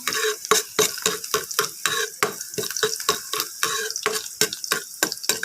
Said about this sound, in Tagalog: Ilagay ko na po yung bawang. Ayan. Halo lang.